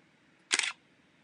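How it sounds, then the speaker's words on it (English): DSLR camera shutter firing once at 1/250th second, a single crisp mechanical click-clack standing alone against quiet room tone. "So just one click, that's the shutter opening and closing at 250th a second."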